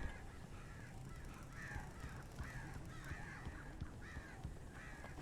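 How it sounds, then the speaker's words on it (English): Crows caw in Alan Wake Remastered, a steady series of harsh calls repeating about once a second over a dull constant background hiss, faint and somewhat distant. "Crows, get out of here."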